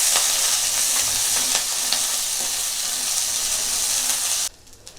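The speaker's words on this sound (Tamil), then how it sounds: "எல்லாத்தையும் நல்லா வதக்கி விட்டுறலாம்." Shallots sauté in a pan for peanut tomato chutney, giving a loud, continuous close sizzle with light stirring scrapes that cuts off abruptly near the end.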